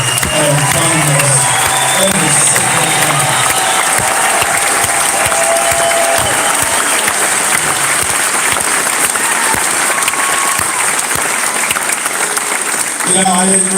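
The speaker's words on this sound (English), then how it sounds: "I want to give a big round of applause for those hard workers behind and in front of us." A crowd at an outdoor convoy meet-and-greet applauds for the hard workers with loud, sustained clapping and some scattered cheers that last throughout.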